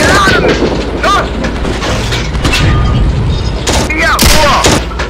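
A Tiger tank cannon in the World War II game Steel Fury fires with heavy booms and rumbling blasts amid battlefield noise, while crew voices shout over it.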